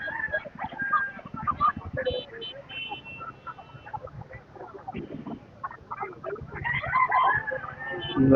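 Hens cluck in short, scattered bursts at a village poultry market with people talking over them, and the sounds grow busier toward the end.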